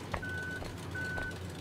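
Truck reversing beeps from the video game Human: Fall Flat, two long steady electronic tones about a second apart over a low engine hum, no talking.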